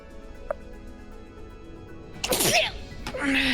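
A single sneeze from a game character, bursting out sharply and loudly after a quiet stretch, followed by a brief spoken voice line.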